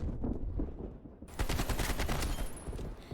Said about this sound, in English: that's hip firing with no laser attachment